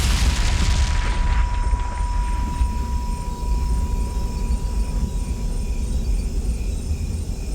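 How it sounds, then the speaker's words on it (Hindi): An explosion blast from an Odia film hits loud at the start and settles into a long, heavy rumbling roar that stays dense and sustained to the end. "ये बहुत बड़ धमाका थिला"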